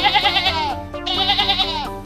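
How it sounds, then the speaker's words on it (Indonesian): A sheep gives two long, wavering, nasal bleats close by, separated by a brief pause, loud and clear with no talking. "Di sini ada satu ekor domba."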